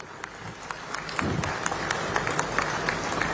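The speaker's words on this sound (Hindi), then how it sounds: "तालियां जोरदार होनी चाहिए।" Audience applause at a semiconductor plant groundbreaking ceremony in Chhattisgarh, a broad crackle of many hands that builds and holds steady at some distance.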